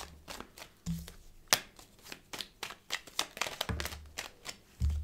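Tarot cards shuffled by hand, with a series of soft crisp flicks and slaps and a few sharper snaps as cards jump out, close but fairly quiet, with no voices.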